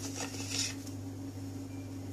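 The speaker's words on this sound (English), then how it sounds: "Firstly, we are going to cut the paneer." Knife cutting through a block of paneer into cubes on a board in a home kitchen, a few soft dull taps and scrapes over a steady low hum.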